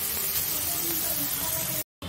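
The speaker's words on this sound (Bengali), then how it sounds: "কড়াইতে যে তেল আছে তার মধ্যে আমি বেগুনটাকে ভেজে নিচ্ছি" Eggplant pieces fry in hot oil in a wok, giving a steady, dense sizzle and hiss that runs unbroken for most of the moment before cutting out abruptly near the end.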